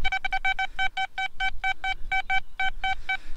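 A rapid series of short, bright electronic beeps from a metal detector, repeating in quick irregular bursts over faint background rustle.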